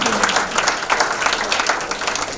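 Applause fills a party meeting of former and current legislators and local chapter chairs as a dense, continuous clatter of many hands clapping at close range, with no pauses.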